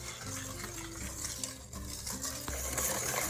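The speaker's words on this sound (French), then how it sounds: "Je vais commencer à mélanger tout doucement le sucre et les jaunes d'œufs." Sugar and egg yolks are gently stirred together in a bowl, a soft continuous scraping and swishing with a faint ringing tone from the utensil against the bowl, quiet and close.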